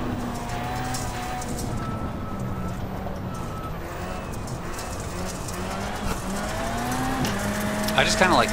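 A rallycross car at Daytona under acceleration, its engine note climbing steadily with shifting harmonics, heard from inside alongside a voice talking, with a short burst of rougher noise near the end.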